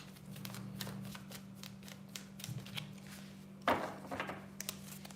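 Tarot cards are shuffled and handled up close in quiet, with a soft riffling flutter, repeated small taps and slides, and a sharper snap of a card being drawn partway through.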